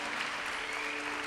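A church congregation at a women's conference applauds continuously in a dense, even wash of clapping, moderately distant and with no individual voices standing out.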